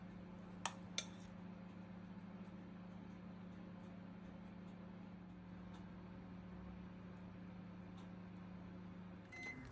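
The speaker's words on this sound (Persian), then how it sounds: "مایکروفر رو رو حالت کانوکشن گذاشتیم و با دمای 200 درجه از یک رو قبل گرم کردیم" A microwave oven running in convection mode at 200 degrees drones with a steady low electrical hum without a break, with two faint clicks near the start and a small bump at the very end.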